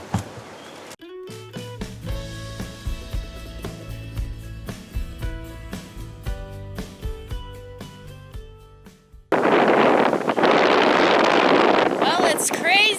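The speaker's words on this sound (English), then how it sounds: "Well, it's crazy windy again today." Strong wind buffets a microphone in a garden, turning into a loud, steady roaring rush during the last few seconds after quieter sounds.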